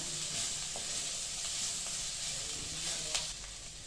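Ginger garlic paste sautéing in a pan over medium heat for dal fry gives a soft continuous sizzle with light hiss, plus a few faint scraping stir clicks, near and quiet.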